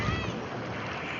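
A log flume ride boat in a video game theme park rushes through water, a steady broad wash of churning water and spray that stays constant throughout.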